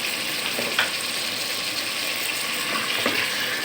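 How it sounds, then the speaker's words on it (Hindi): Masala frying in a pan for mutton bhuna as a little water goes in, giving a steady broadband sizzle with a couple of brief bursts of stirring or spattering, no voices. "मसाले में मैं पानी ऐड करूँगी थोड़ा, ताकि जो है मसाला जले नहीं और सही से भुने।"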